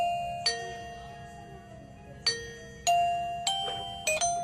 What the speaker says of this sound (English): there's a button on the side that will change the chime sound.